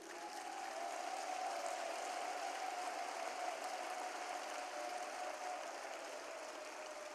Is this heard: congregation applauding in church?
yes